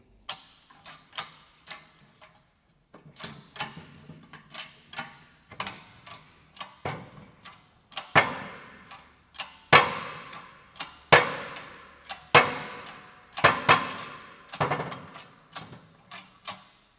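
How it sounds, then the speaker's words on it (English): A new bearing pressed into the clutch of an abandoned farm ATV, a series of sharp metallic taps and clangs in irregular bursts, growing louder and ringing more toward the end. "press in the new bearing"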